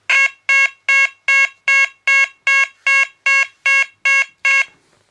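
Set to intermittent, a Chloride Gent warbler alarm emits eleven evenly spaced loud electronic tone bursts in a steady on-off rhythm, each a short harsh beep separated by silence.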